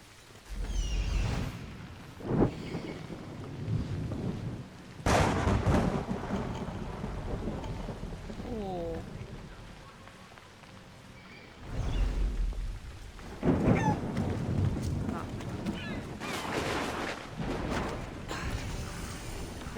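Rain and rolling thunder from a storm in the video game Assassin's Creed Odyssey, with loud rumbling bursts that recur over a steady wash of rainfall in a town among houses.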